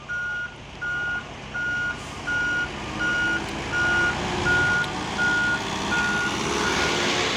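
A steady series of loud, evenly spaced reversing beeps sounds over the low rumble of an idling Hino Ranger cement mixer truck rolling back down a hill after failing the climb.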